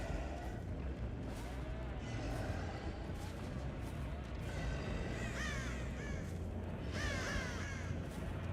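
Crows cawing in the horror video game Dead by Daylight, a few raspy caws rising above a steady dull background rumble, moderately distant.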